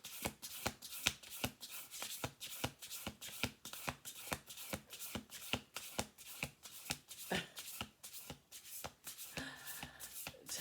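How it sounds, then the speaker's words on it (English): Oracle cards being shuffled by hand, a steady run of quick riffling bursts repeating at an even rhythm, close and fairly quiet with no talk. "We're going to do 1 more shuffle here."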